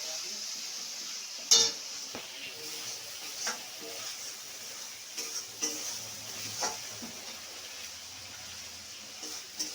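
Turmeric and spices frying in a pan while being stirred, a quiet steady sizzle with scattered scraping clicks of a spoon, close by and without talk.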